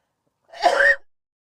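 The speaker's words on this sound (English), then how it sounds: "That was a cough." A single short, sharp cough bursts out once, close and fairly loud, between stretches of silence.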